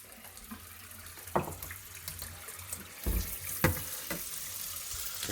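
Tap water runs into a small sieve while tomato seeds are rinsed, a close, steady splashing with a few louder spatters as the flow shifts, no talking.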